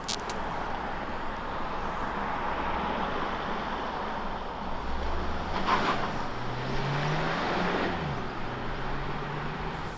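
Interior road noise from a 2021 Hyundai Tucson 1.6 Turbo driving on a snowy road, a steady engine and tire hum with a slight rise in engine pitch midway, no talking.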